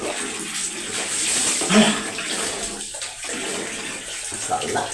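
Running water splashing steadily as a person bathes in the morning, with a continuous close rush of flow and occasional louder splashes and shifts as the water hits the body and floor.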